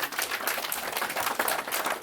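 Wedding guests at a church ceremony clap for the newly married couple, a dense, even burst of many hands clapping together throughout.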